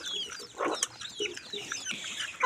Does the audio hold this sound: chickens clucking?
yes